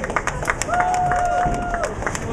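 Audience at the bowling finals of the JBT Jim Kent Classic clapping and cheering, scattered claps and crowd noise at moderate volume, with a whistle-like tone partway through.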